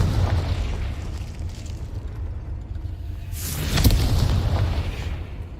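Fiery Confringo spell blast from Hogwarts Legacy, a burst of explosion near the four-second mark over a steady, rumbling game background with low booms.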